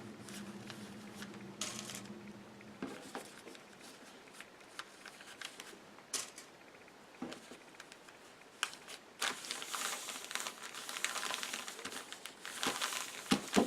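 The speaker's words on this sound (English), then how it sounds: "Flip this around, and let's pin these." Quilt fabric and foundation paper are handled and fastened with clips, giving crisp paper rustles, crinkles and small plastic snaps in irregular bursts, quiet at first and busier and louder toward the end.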